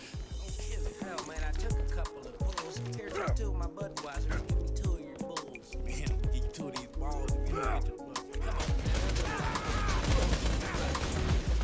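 Explosive bullets fire in Borderlands 2 as dense, irregular bursts of sharp gunfire with heavy low thuds and crackling impacts, loud and chaotic throughout, with some speech mixed in.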